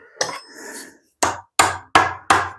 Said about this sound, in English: Using a really big chisel.